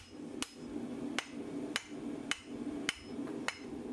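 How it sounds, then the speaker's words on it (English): A hammer forges a hot cut hardie on an anvil with six sharp, ringing blows at an even, unhurried pace, close by with no talk. "So I'm just hitting it to the side now just to push the top over"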